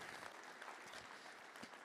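Applause from a conference audience at a water and wastewater industry opening day, steady and continuous, fairly distant and soft throughout with no voices over it.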